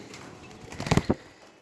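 Breeder quail averaging about 160 grams each give a few soft, close coos and chirps clustered in a brief burst, with quiet rustling before and after and no talking.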